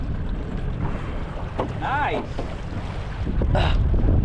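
A motorboat engine rumbles steadily as the boat turns, with wind buffeting the microphone and water sounds, while a voice briefly speaks near the end.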